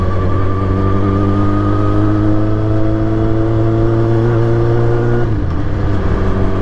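Motorcycle engine running at a steady idle, a close, loud, even drone with strong harmonics that dips in pitch briefly near the end before settling again, no voices.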